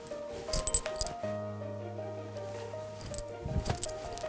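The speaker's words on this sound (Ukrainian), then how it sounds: "Це ривок називається." A kettlebell snatch with a single weight, bringing a couple of sharp metallic clinks and rattles of the handle near the start, then a steady low hum, then another burst of clanking, all close and fairly quiet with no speech.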